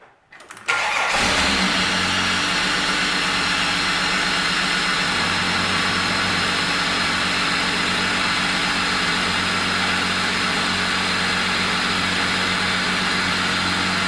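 A car engine cranks and fires, then settles into a steady, loud idle that holds unchanged for over thirteen seconds, up close, while the cooling system is being bled.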